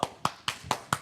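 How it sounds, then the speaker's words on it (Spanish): An audience claps in a slow, even rhythm, five distinct sharp claps about a quarter second apart, close and fairly loud. "La gente está aplaudiéndolo."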